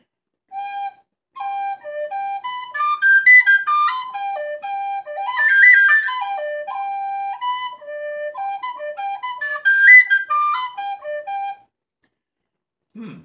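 An Irish tin whistle plays a clear, bright melody of stepwise notes using anchored fingerings, solo and close, with brief pauses between phrases.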